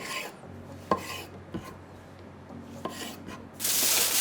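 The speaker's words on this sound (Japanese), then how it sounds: "トマトはね、一口大に切っていきます。" Knife cutting a tomato into bite-size pieces in a home kitchen, heard as a few separate close taps of the blade on the board among soft rubbing sounds, with a louder rasping scrape at the end.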